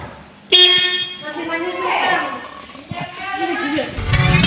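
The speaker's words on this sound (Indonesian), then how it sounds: "Klakson" A car horn honks loudly and holds for a moment, with a person talking over it and traffic noise in the background.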